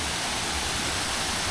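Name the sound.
Panwal waterfall flowing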